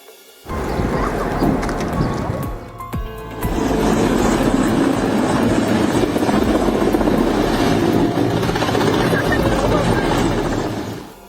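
A helicopter's rotor thuds with steady, loud, broadband roar that swells after a brief lull and keeps going, close by, flying in hurricane conditions.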